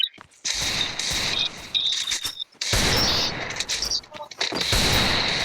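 Gunfire in a video game, with sharp shots and bursts in clusters separated by brief gaps, loud and close with bright high-pitched tones, while people talk over it.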